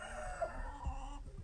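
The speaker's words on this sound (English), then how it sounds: "I didn't mean for you to see my rooster doing his thing." A rooster crows once in a drawn-out call, the sound filling the whole moment fairly close and clear, with no talking over it.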